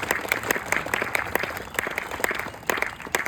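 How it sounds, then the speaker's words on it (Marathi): An indoor audience breaks into loud, steady applause, many hands clapping together in a dense patter that holds for a few seconds without letting up. "त्यांच्यासाठी आपण एकदा जोरात टाळ्या वाजूया."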